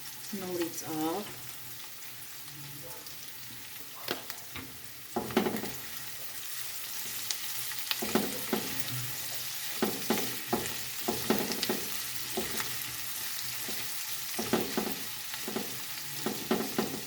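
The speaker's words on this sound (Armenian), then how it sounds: "Հիմա սոխը եւ գազարը իրար հետ եմ տապակում" Onion and carrot frying together in a pan, with a continuous close sizzle broken by repeated stirring scrapes and knocks at an uneven rhythm throughout.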